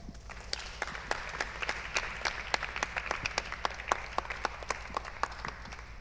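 Audience applause at a festival feedback session fills the room, a dense, steady patter of many hands clapping, with no talking over it.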